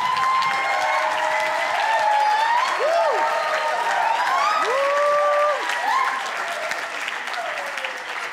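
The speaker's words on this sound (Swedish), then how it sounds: "Ja, ge dem en applåd." A church gathering's audience claps warmly for a group of Bible school students, a thick, continuous wash of applause with bright, gliding musical tones weaving over it.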